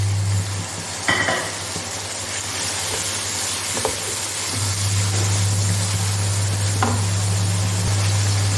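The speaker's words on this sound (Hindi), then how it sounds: "अब हम मसाले को अच्छी तरह भून लेंगे।" Masala and tomatoes frying in a pan for turai and potato sabzi, a steady close sizzle with a few clicks of a spoon stirring against the pan and a low hum running underneath.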